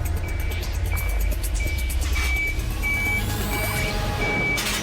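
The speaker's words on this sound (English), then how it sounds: "he has to perform a tricky reverse, inching his way into a tight spot amongst pipework" A truck with a slider trailer reverses slowly into a tight spot among pipework at a depot, its reversing alarm beeping in a steady regular rhythm over a constant low engine rumble.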